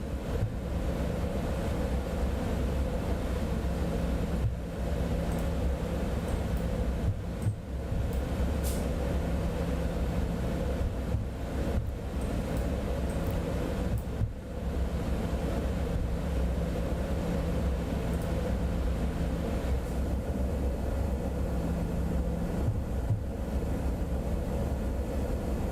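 A Cessna Citation X business jet taxis in Microsoft Flight Simulator 2024 after landing at Lake Tahoe, giving a steady, unbroken engine rumble and hiss that holds level for the whole stretch, with no talking.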